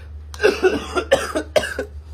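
A series of rough, close coughs from a person with a fever, in three quick bursts, each with several hacking pulses, over a low steady hum.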